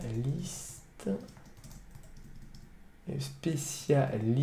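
Computer keyboard typing, a brisk patter of light key clicks running steadily beneath a man's speech, close and moderately loud.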